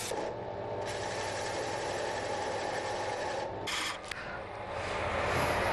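Wooden pieces for a handmade bargueño cabinet are turned on a lathe with a large roughing gouge, a smaller gouge and a turning chisel. A steady, close, rasping scrape runs without pause, with a brief change in tone near the end.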